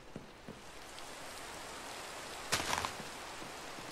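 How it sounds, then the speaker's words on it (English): Minecraft rain falls as a steady, soft hiss throughout, with a brief louder patter of drops partway through and no voices. "And I see it's raining now."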